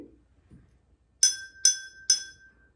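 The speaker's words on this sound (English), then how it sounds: "Can you tap the side of the glass gently?" Three gentle taps on the side of an empty drinking glass, each a bright ringing clink with a sustained tone that fades, evenly spaced and close up, with faint handling sounds before and no speech.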